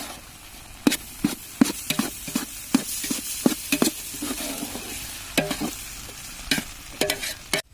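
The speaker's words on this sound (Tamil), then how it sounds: "இப்போ மெழுகு போட்டோம், நல்லா கிளறி விட்டுக்கலாம்." Egg podimas with drumstick leaves is stirred in a hot pan, a quick rhythmic series of spatula scrapes and taps over steady low sizzling, close and clear, without speech.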